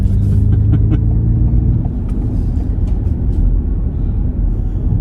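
A Ford Mustang Mach E accelerates hard from a stoplight to pass a Chevy, giving a loud, steady low rumble of road and wind noise that stays constant throughout, with no voices.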